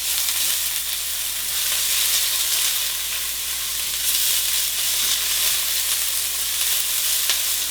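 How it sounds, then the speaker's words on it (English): Garlic and chopped yellow onion sauté in a hot pan, a steady, bright frying sizzle that holds evenly at close range with no talking over it. "first we have to saute our garlic"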